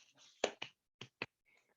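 A few quiet finger snaps offered as soft applause, four crisp separate clicks close by, with faint murmuring at the start and end.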